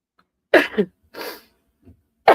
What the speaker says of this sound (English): Oh, I feel like I got to sneeze.